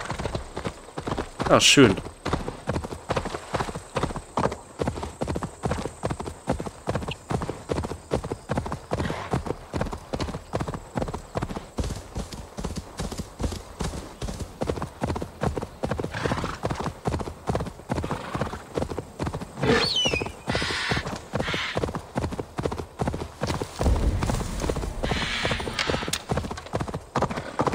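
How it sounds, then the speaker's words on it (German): Horse hooves clip-clopping in Assassin's Creed Valhalla, a steady rapid trotting rhythm running throughout, with a brief whinny early on and someone speaking German over it. "Wir holen uns unser Pferd."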